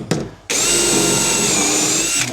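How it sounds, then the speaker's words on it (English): A power drill bores into a fitted wardrobe panel, a short tap at the start and then a steady, loud whine running continuously for about two seconds, close up and with no talking. "Okay, so we drill our first hole."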